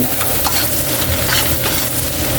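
Garlic frying in cooking oil in a pan until golden brown, for a chicken wings dish, a steady close sizzle with light stirring scrapes throughout, no talking.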